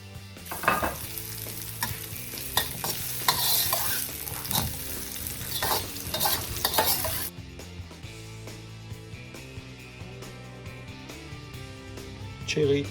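Chinese-style chilli chicken stir-fried with onion, celery, garlic and peppers, sizzling and bubbling in a hot pan with rhythmic stirring scrapes, then settling into a quieter steady sizzle.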